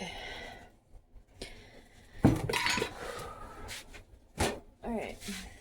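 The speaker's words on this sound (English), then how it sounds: "now I'm gonna add salt, and then I'm gonna stir" A utensil scraping and clinking against a bowl while sourdough is mixed with salt, in intermittent bursts of clatter with quiet gaps between them.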